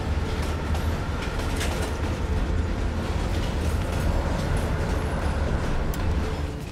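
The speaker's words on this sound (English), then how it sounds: "Train slowing down." A train moves steadily along the track and starts to slow in the Call of Duty Cold War campaign, a continuous loud rumble with rhythmic clicks and rattles of the wagons that eases off slightly at the end.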